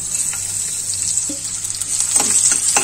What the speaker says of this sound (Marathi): मी तेलामध्ये ही लसूण घातलेली आहे